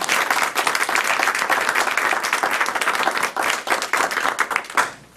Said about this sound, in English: I'd like to actually start a round of applause for those 2 dealerships.